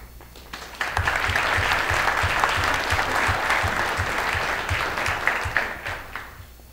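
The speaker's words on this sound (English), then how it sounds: "And you deserve the applause." Applause swells from a crowd after a speech point, a dense burst of clapping that rises quickly, holds steadily for several seconds over a regular low thumping beat, then tapers off.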